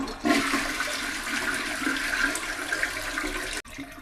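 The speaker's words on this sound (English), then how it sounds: "Remember, you've got water in your toilet. As you can hear, it's still running." A household toilet keeps running after a flush, water rushing steadily into the tank up close before the sound abruptly cuts off near the end.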